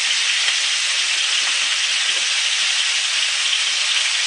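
Beef sears in a hot pan with oil, giving a loud, dense, unbroken sizzle and crackle close up, steady throughout with no pauses and no talking.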